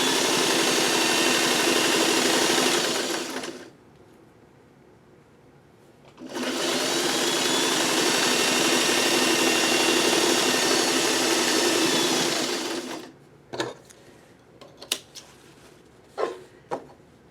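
Sewing machine stitching fuzzy fabric pieces together, two long, loud, steady whirring runs separated by a short pause, then scattered clicks and handling noises, close by with no talking.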